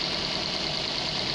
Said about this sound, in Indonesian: Mesin kembali normal.